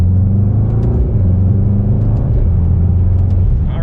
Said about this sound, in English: we will see a little bit of the acceleration here